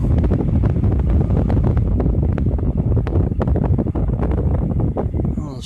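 An O2 Cool Treva battery-powered fan on speed two gives a loud, steady rushing whir of blown air buffeting the microphone up close.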